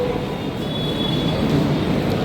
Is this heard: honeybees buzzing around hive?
no